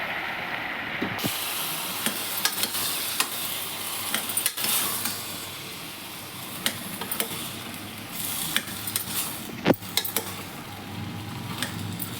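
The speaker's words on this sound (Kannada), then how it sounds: "ತರಕಾರಿ ಎಲ್ಲ ಎಣ್ಣೆಲಿ ಫ್ರೈ ಆಯ್ತು" Capsicum, beans, carrot, potato and green peas fry in oil in a home kitchen pot for vegetable sagu, a soft continuous sizzle with scattered clinks and scrapes of a spoon against the pan.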